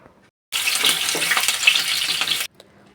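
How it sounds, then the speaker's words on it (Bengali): Pieces of pointed gourd (potol) drop into hot oil left from frying sweet potato for Bengali shukto, bursting into a loud, crackling sizzle that starts abruptly and lasts about two seconds before cutting off, with quiet moments on either side. "ওই তেলের মধ্যে পটলগুলো ভেজে নেব"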